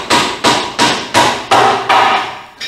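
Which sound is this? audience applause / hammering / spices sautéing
hammering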